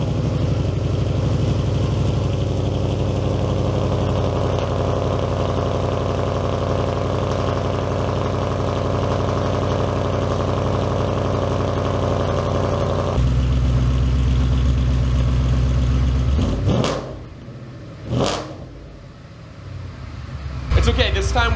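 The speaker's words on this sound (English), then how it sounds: "I'm gonna pretend like I don't do a cold start in like every video ever that involves driving the Mustang" A Ford Mustang idles after a cold start with a steady, rumbling exhaust drone that drops in pitch partway through, followed by a few short light revs near the end.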